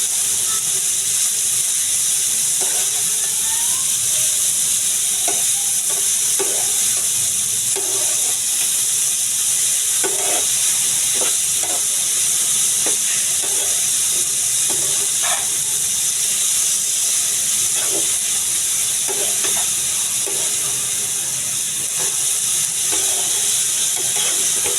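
Beetroot bhaji sizzles steadily in a pan with a constant hiss, and scattered clicks and scrapes come from stirring in the foreground, with no talking.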